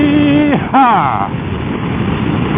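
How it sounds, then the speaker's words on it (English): A carbureted motorcycle engine revs hard: a loud droning tone swoops down and climbs again, with wind rushing across the microphone, and no talk over it. "Sudden rush of petrol to the carburetors."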